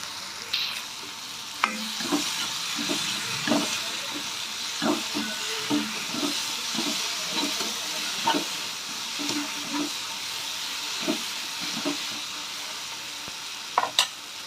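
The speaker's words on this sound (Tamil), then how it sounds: "தக்காளி நல்லா வதங்கட்டும்" Tomatoes sizzle steadily in a hot pan with ginger-garlic paste while a utensil stirs and scrapes now and then, producing soft irregular clicks over the constant frying hiss.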